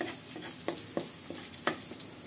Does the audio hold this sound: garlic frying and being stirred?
yes